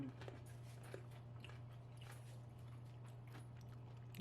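A crunchy homemade pickle being bitten and chewed, with soft repeated crunches and squishy chewing at close range over a steady low electrical hum; no one speaks.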